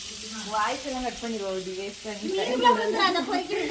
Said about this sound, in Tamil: நம்ம இப்போ மீன் பொரிக்க போகிறோம்.